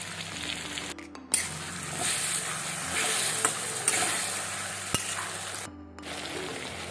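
Pointed gourd frying with mustard paste in a pan, giving a continuous close sizzle with occasional sharp pops and stirring clatters, no voices.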